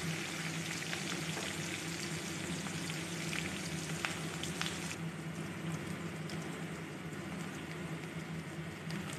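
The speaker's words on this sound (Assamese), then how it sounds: "আৰু পিঁয়াজখিনি মই অলপ ৰঙচুৱা কৰি ল'ম।" Onions fry gently in a pan for a fish curry, giving a soft, continuous sizzle with faint crackles; the high hiss eases partway through.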